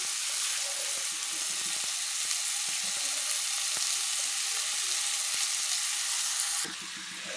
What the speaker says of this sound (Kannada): ಸ್ಮ್ಯಾಶ್ ಮಾಡಿ ಹಾಕಿದ್ರೆ ಇವಾಗ ಫ್ರೈ ಮಾಡಬೇಕು.